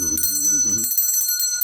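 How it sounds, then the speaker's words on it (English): A hand bell rung inside a small camper to clear stagnant energy gives a bright, sustained metallic ringing throughout, with a voice talking over the first half. "I like to ring my bell"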